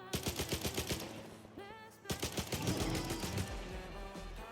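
Rapid automatic gunfire shot into the ground in the Stalker 2 video game, a quick rhythmic string of close, loud bursts, a brief pause, then another sustained volley.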